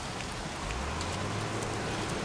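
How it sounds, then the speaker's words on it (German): Steady rain falling in the Heavy Rain video game, a dense continuous hiss with a low rumble underneath, fairly loud and unbroken for the whole stretch with no voices. "Der Regen, ich bin klatschnass."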